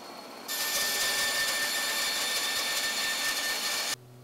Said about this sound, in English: Now let's take a couple slices with the bandsaw and see how it fits.